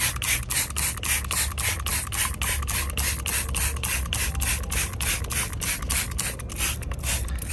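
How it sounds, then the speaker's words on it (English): Gentle wheel cleaner sprayed onto a car's wheels and barrels makes a rapid, even run of short hissing bursts, close and fairly loud, repeating steadily several times a second without speech. "Make sure you spray the barrels."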